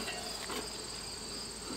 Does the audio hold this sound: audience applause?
no